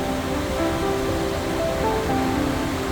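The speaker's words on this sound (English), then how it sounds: "And that's coming down with a fair bit of force, that water." Water from a waterfall in the Philippines rushes down with force, a loud, continuous broadband roar that holds steady throughout with no voices.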